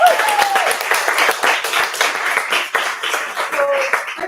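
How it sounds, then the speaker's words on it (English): Applause from an audience at a book launch event for speakers and panelists, a dense steady patter of many hands clapping close by, with faint voices mixed in. "Let's give another round of applause to our amazing speakers and panelists."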